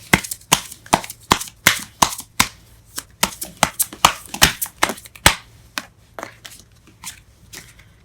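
Tarot cards being shuffled and drawn, a run of crisp slapping riffles and flicks repeating in quick bursts, close and fairly loud with no voices.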